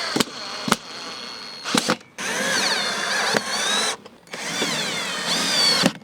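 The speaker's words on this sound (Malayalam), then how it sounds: "അപ്പോൾ ഇത് നമുക്ക് സ്ക്രൂ ചെയ്ത് കൊടുക്കാം." A power drill drives screws into the handle assembly of a homemade motorised boat, with several whirring bursts separated by short pauses and sharp clicks, close and fairly loud, with no talking.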